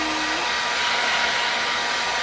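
A handheld hair dryer blowing hot air on someone's hair, a loud, steady close-up whoosh and motor whine that runs unbroken, with no voices over it.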